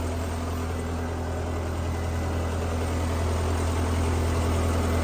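Steady, loud diesel drone of a Case 580B backhoe engine running as the machine moves, a constant low rumble with even vibration and no pauses throughout.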